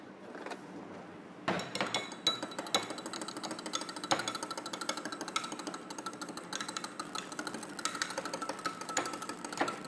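Egg being whisked into muffin batter in a bowl, with a rapid, steady clatter of the whisk against the bowl's sides starting after a brief quiet pause and continuing close and moderately loud.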